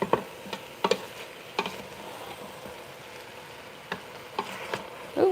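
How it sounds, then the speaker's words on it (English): Beef stew ingredients stirred together in a pressure cooker pot, a run of sharp scrapes and clacks spaced irregularly over quiet background, close and moderately loud, with no talk. "I wanna make sure I'm stirring all of this in together"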